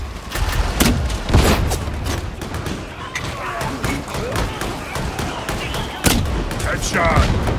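Gunfire in the video game Darktide: repeated sharp shots and bursts, some loud and close, crackle over a busy combat din while voices call out.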